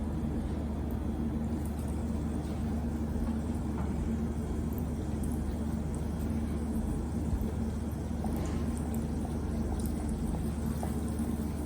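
Coated potato fries go into hot oil on a high flame, producing a steady, loud, broadband sizzle that continues without a break.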